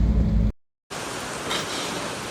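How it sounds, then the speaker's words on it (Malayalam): Heavy rain pours down in a dense, steady hiss, broken by a brief moment of silence before the downpour resumes. "നല്ല മഴയാണ്."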